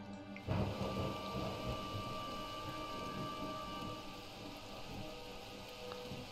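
Steady rain from a rain cloud in the video game The Universim hisses continuously, with a low rumble and a soft thump near the start.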